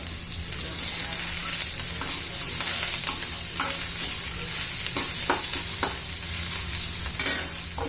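Onion, garlic and ginger fry and sizzle steadily in a pan for a rajma masala, with a spoon scraping and stirring through the hiss in irregular strokes, close and fairly loud, with no talking.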